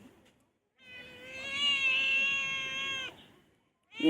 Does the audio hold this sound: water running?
no